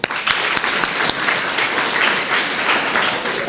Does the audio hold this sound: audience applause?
yes